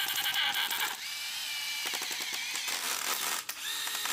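A power screwdriver whines in bursts as screws are driven into wooden poles fitted inside an old tyre for a reuse craft, loud and close, with no voices.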